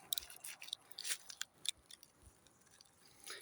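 A knife cuts through a cyclamen tuber, giving a few faint, close crisp snaps and crunching clicks spread unevenly across a few quiet seconds.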